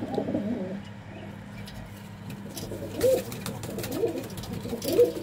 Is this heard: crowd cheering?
no